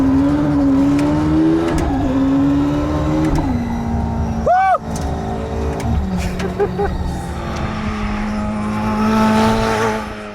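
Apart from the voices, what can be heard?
hypercar accelerating on race track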